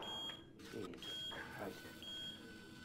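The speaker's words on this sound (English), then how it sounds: "All right, I'm going to set off the alarm." An alarm set off inside the Watch Dogs 2 video game, heard as a steady high electronic tone that sounds on and off over a busy game soundscape with a brief voice.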